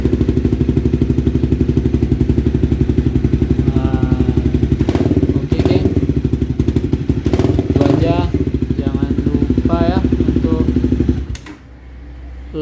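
A Honda CBR motorcycle engine idles after an exhaust replacement, a steady loud close throbbing rumble with a few revs blipping over it before the engine cuts off near the end.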